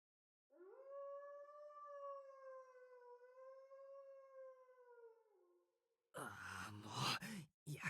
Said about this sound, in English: The dog is still howling somewhere outside the window.